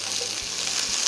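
Garlic and onion sautéing in a pan give off a steady, close hiss of sizzling oil for a brief moment, with a faint low rumble underneath and no speech.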